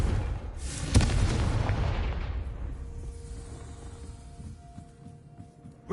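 Confringo fire spell in Hogwarts Legacy on PS5 bursts in a loud booming explosion about a second in, its rumbling roar decaying slowly over several seconds before fading to a faint hum.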